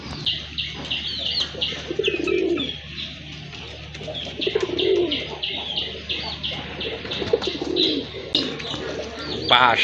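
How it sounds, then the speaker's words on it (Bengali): Madrasi Golla pigeons coo in deep, booming repeated calls, several rounds rising over a background of chirps, wing flutters and other bird noise, fairly close with no speech. "এত সাউন্ডওয়ালা কবুতরগুলো সচরাচর পাওয়া যায় না"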